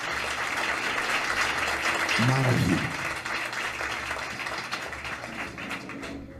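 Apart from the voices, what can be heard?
church congregation applause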